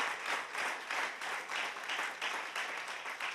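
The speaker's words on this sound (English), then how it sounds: "Clap your hand if you believe that." A church congregation clapping together in rhythmic bursts, steady and fairly loud, filling the room without any speech over it.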